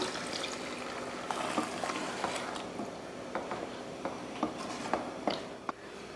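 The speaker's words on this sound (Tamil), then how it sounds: "வதக்கினதுக்கப்புறமா தண்ணி சேர்த்துடலாம்" Water trickles and pours into a pan of frying mutton curry masala, a soft steady liquid stream with faint clinks and splashes, fairly quiet and alone.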